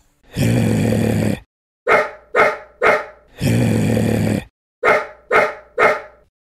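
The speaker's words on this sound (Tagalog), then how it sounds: "Tahol ka ng tahol ha." A dog barks in two bursts, each a long sustained growling bark followed by three short sharp barks, loud and close with brief silences between, no talk over it.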